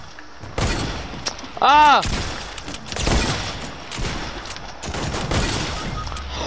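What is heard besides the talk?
hunting rifle sniper shots in a video game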